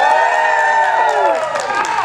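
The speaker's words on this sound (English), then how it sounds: "We're gonna do one big spontaneous cheer so that everyone else a bit farther away is gonna want to come near." Outdoor festival audience at the Canadian Tulip Festival letting out one big sustained cheer, many voices shouting and whooping together, loud and close, tapering off toward the end.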